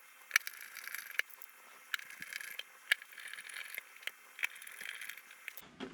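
Small servo screws are driven into an RC airplane's tail assembly, producing faint clicking and ratcheting ticks with a few sharper clicks against a quiet background.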